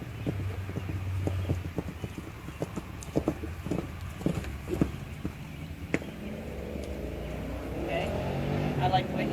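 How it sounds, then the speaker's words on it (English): Hoofbeats from a group of horses arriving at a gallop on a training ground, a run of distinct thuds fading into a rushing, wind-like noise, with no talk over it. "I got a group of horses galloping in right now."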